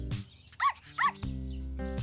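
A puppy gives a short yip, then two clear high-pitched barks, followed by a lower, longer sound at close range with no talking.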